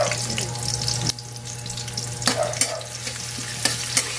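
Crab and garlic frying in a pan for a home-cooked Filipino dish, a close steady sizzle with a few sharp clattering stirs and a faint low hum underneath.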